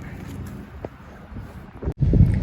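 Low, rumbling wind buffeting the microphone, steady and moderately loud, with a stronger gust toward the end and no talking.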